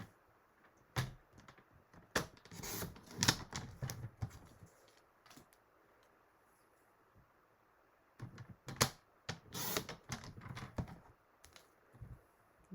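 Paper cut by hand for a thank-you card: two clusters of sharp, close snipping clicks separated by a quiet pause, with no talking.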